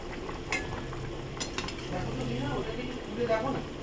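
Katla fish pieces fry in a pan for doi katla, giving a faint, soft sizzle under occasional utensil clinks and stirring scrapes.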